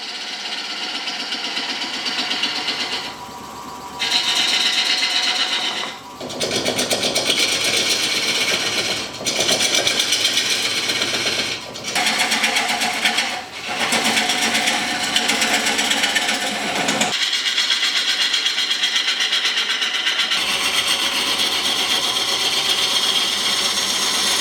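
Piece of unusual wood spinning on a lathe at 2,000 RPM in a woodshop, giving a loud, steady whirring machine drone with a few brief dips and changes in pitch throughout.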